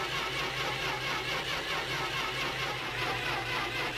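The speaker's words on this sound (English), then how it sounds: "All we had left to do was turn the key and start the car." A car engine in the video game My Winter Car sounds as the key is turned, giving an even, continuous mechanical drone with a low hum that holds steady throughout, heard alone.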